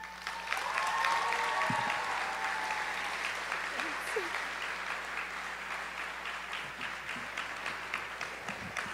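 Sustained crowd applause at a high school graduation ceremony for the class of 2022, steady dense clapping across the whole stretch with a few louder claps and faint voices mixed in.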